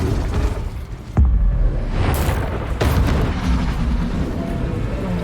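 Spell explosion from the Confringo spell in Hogwarts Legacy, a loud booming blast with a deep rumble, followed by sharper magical bursts and crackles over continuous game noise, with no talk.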